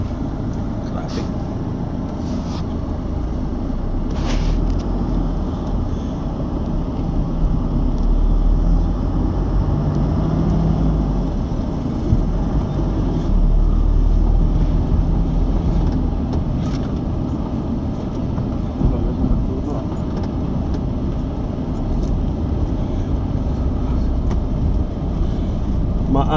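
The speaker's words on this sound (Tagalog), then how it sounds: "Traffic." Busy Mumbai street traffic rumbles steadily with passing engines and scattered horn blasts, a continuous loud wash of vehicles, while people talk over it.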